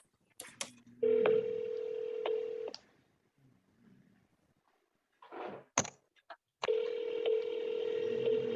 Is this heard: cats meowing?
no